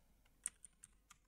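Typing a command on a computer keyboard, four or five light, separate key clicks, close and quiet.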